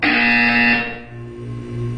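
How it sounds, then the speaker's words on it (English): A harsh electronic buzzer from the video game Portal 2 blares loudly for under a second, then drops to a quieter low hum that fades and swells again. "You will hear a buzzer."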